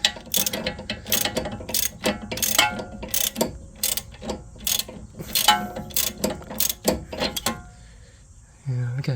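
Ratchet clicking in quick bursts while loosening the drop link nut on a Mercedes-Benz C200 Kompressor W204, close and loud, with pauses between runs and a brief metallic clunk near the end.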